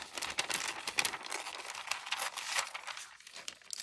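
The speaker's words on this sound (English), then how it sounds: "Then if it's a middle image, I would tear around it." Paper torn by hand around a stamped image for a journal project, a close, continuous run of ripping and crinkling rasps that rises and falls steadily for a few seconds with no voices.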